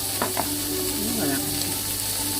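Zucchini matchsticks sizzle in a pan cooked without oil, giving a steady close crackle with faint stirring over it.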